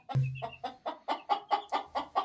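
A chicken squawks and clucks loudly in a barnyard, a quick run of about ten sharp, evenly spaced calls close by, with no voices.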